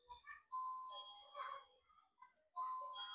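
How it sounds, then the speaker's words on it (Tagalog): A home doorbell rings twice, each a bright sustained two-tone chime, with muffled voices talking softly between the rings. "May nag-doorbell lang ata na kung sino."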